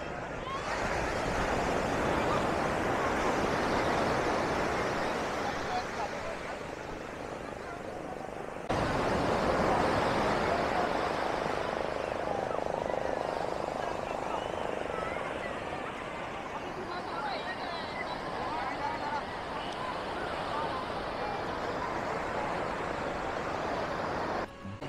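Surf breaking steadily on the beach at Puri, a broad continuous wash of sea waves with a wind-buffeted roar close to the microphone, swelling and easing slightly over time with no clear individual crashes.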